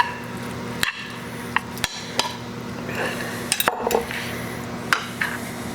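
Tongs tossing truffle pasta in a pan, giving scattered clinks and sharp metallic knocks against the pan over a faint background hum, with no talking.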